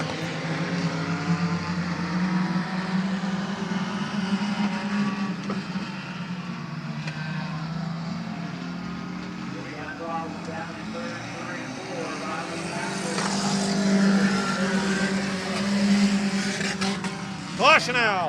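Race cars circle the track at Midvale Speedway, giving a continuous, steady roar of engines that swells and fades slightly as the pack passes, with voices heard over the din.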